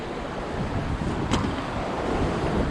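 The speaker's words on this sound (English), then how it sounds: "Oh yeah, it's a wind tunnel this." Strong wind roars under a bridge, buffeting the microphone in a loud, steady rush with a brief gust partway through.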